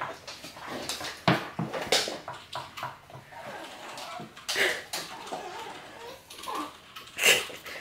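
A hungry pet dog whimpers and whines in short bursts indoors, its thin cries rising and falling irregularly over several seconds, with a person talking to it nearby.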